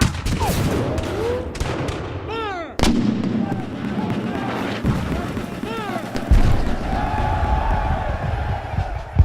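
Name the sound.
Civil War reenactment cannon artillery firing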